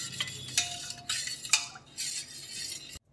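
A spoon clinks and scrapes in a bowl as jaggery is stirred into kanji, a fermenting drink for kanji vada, in a few separate rattling bursts that stop abruptly into silence.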